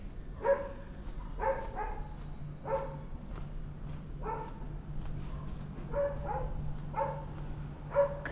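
Repeated barking from a dog in a Macau alleyway, about eight sharp barks spaced roughly a second apart, fairly close and steady against a low background hum.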